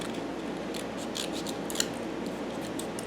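Scissors snip around a paper craft piece for a mini album, giving a soft run of close, quiet cuts and rustling paper over a few seconds, with one slightly sharper snip midway and no talking.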